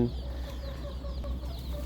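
A flock of young laying-breed chicks clucks and murmurs continuously over a low rumbling background, with a few sharper calls rising above the steady chatter.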